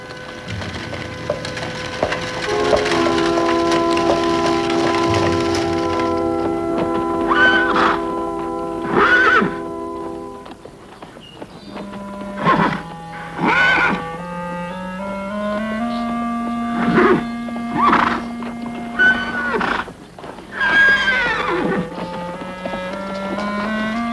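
Horses neigh and whinny repeatedly, close and loud, in a Western setting, with long ringing calls separated by short gaps and no talking.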